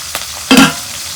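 Chopped onions and green chillies hitting hot oil in a pan, a short burst of loud sizzle with a brief stir just before it, then a faint steady crackle.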